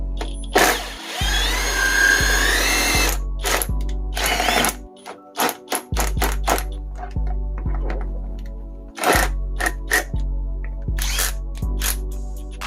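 A power drill fitted with an adapter whirs in repeated short bursts, starting and stopping with clicking and ratcheting between runs, loud and close.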